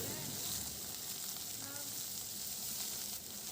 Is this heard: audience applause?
no